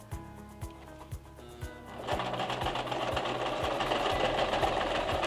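A sewing machine stitches fabric for embellished shorts, first in a few separate short bursts, then running steadily in a loud continuous whir up close.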